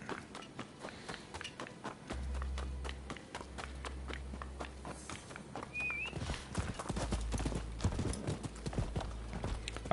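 Horse hooves galloping in a video game, a steady rapid clip-clop of a fast mount running continuously for about ten seconds, with low rumbling game ambience underneath and no talk.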